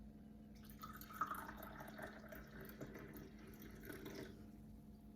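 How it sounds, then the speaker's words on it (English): Tea trickling and splashing steadily for several seconds, a close, gentle pour with faint dripping at the end. "I'm just going to pour some."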